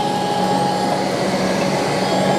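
A Shark Detect Pro robot vacuum self-emptying at its dock, heard as a steady, loud whooshing suction roar with a faint whine, unbroken from start to finish.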